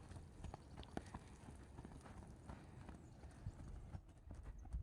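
Hooves of a horse being led clip-clop steadily over ground during balance training, a quick irregular run of hoof strikes at moderate distance under outdoor background noise.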